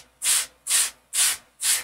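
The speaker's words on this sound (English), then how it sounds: "Now I'm going to get out a sanding block." Four even strokes of a dampened sanding block rubbing across a Dollar Tree wooden barn cutout, each a short bright scratchy swipe with brief pauses between, close and clear with no talking.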